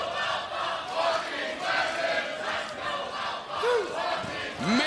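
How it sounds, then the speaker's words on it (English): A professional wrestling crowd at an MLP show fills the arena with mixed cheers and rhythmic chanting, a steady, dense roar with swelling waves and occasional shouts and whistles. "Mixed cheers now as these two have earned more than the respect of the crowd"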